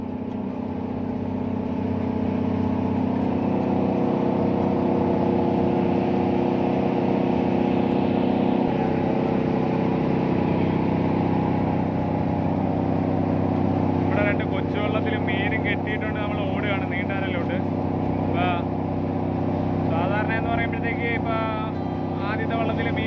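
A fishing boat's engine drones with a steady, low hum that runs unbroken for the whole stretch, and people talk over it in the later part.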